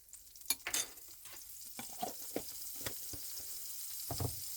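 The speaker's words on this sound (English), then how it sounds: "going to have the skillet on medium-high, and I'm going to add 2 tablespoons of butter" Two tablespoons of butter sizzle faintly in a hot oven-safe skillet over medium-high heat: a soft, steady hiss with scattered small pops and crackles, with no voices.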